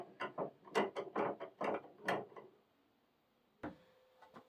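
A machine bolt being tightened into a steel nut on the underside of an 1875 knock-down armoire gives a run of quick ratcheting clicks in short bursts, then a pause and a few fainter ticks, close up and with no talking.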